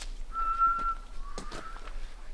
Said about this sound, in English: I can't whistle that good.